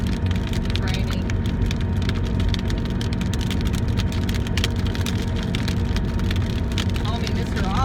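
Rain drumming steadily on a car while driving toward Deming, New Mexico, a constant close hiss of drops and small ticks layered over low road rumble, even in level from start to finish.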